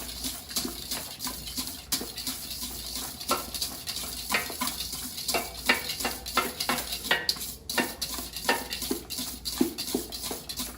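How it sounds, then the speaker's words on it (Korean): Butter sponge cake batter mixed by hand in a bowl, repeated soft scraping and tapping strokes in an uneven rhythm, close and fairly quiet, with no voices. "손으로 균일하게 섞어요"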